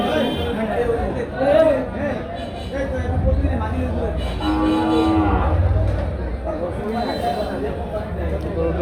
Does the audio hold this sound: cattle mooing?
yes